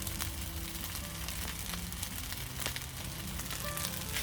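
Prawns sizzle in a pan alongside cold rice, a steady crackling fry with scattered pops that holds for several seconds, moderately quiet and with no talking.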